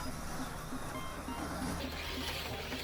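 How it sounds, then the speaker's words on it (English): A Revo Slot Alpha slot car laps a track, giving a quiet, steady electric whir with faint repeating ticks as it circles, heard alone and fairly far from the listener. "So we'll just put a few laps on the Revo Slot Alpha"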